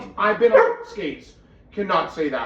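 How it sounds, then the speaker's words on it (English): Dog barking and yipping close by in short bursts, mixed in with people talking. "Sorry, that is my dog, and we have to interrupt right here"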